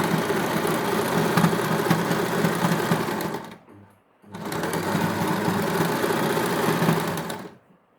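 A sewing machine stitches the hem of a cotton suit in two long, loud, continuous whirring runs separated by a short silent pause, close up and without voices.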